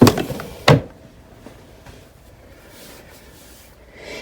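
An IKEA-style makeup vanity drawer gives a short sliding rub followed by a sharp close thump, then faint small rustles and clicks in a quiet room.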